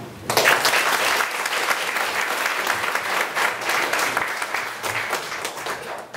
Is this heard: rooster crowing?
no